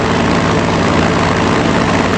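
A fighter plane engine from a Strategic Mind WWII strategy game drones loud and steady, a dense continuous rumble with no breaks or voices.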